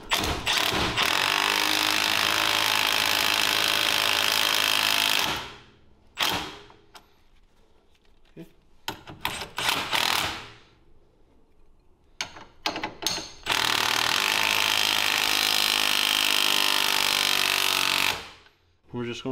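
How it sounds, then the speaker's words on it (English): Ratcheting socket wrench with a 19 mm socket tightening an axle nut on a Honda Talon side-by-side, heard in two long, loud, steady bursts of dense mechanical whirring with quieter clicks and handling noises between them. "Grab a 19 socket and a wrench."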